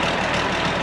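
An Allis-Chalmers 180 tractor engine runs at a steady, close, loud idle with a deep diesel rumble and no talking.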